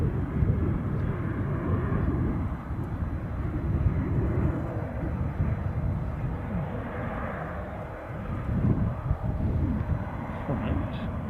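ATR turboprop engines spooling up at Edinburgh International Airport, a steady low rumbling drone heard from a distance under wind noise.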